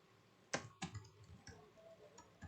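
A few sparse keystrokes on a computer keyboard, quiet close clicks spaced irregularly with a couple of sharper taps, alone without talking.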